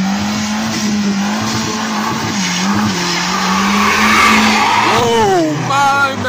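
A modern car on a track day engine roars up close while its tires squeal and skid loudly, the engine note rising and falling in revving sweeps toward the end.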